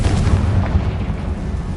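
Confringo blasting spell in Hogwarts Legacy, a heavy, booming explosion with a deep low rumble that decays over about two seconds.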